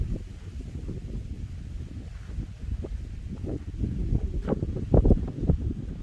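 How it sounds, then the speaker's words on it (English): Wind buffets the microphone in a low, rumbling roar that swells and gusts, with faint rustling in the background, outdoors on a shoreline near Savannah at Fort Pulaski National Monument. "A little windy for you?"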